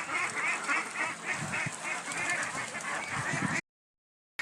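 A flock of farm ducks out grazing after rain honks and quacks in a busy, overlapping chorus nearby for a few seconds, then falls silent.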